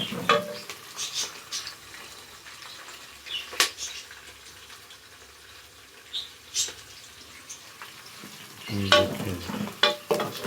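Onions brown in a frying pan with a low crackling sizzle, interrupted by occasional sharp scrapes and taps of a stirring spoon, close by, with a brief spoken word near the end.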